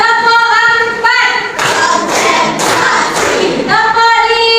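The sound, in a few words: class clapping in rhythm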